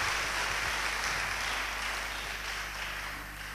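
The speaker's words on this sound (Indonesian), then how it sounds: "Tepuk tangan untuk Tuhan Yesus yang luar biasa." A church congregation applauds at a Sunday sermon, a steady wash of many hands clapping for a few seconds, fairly distant and gradually fading, with no voices on top.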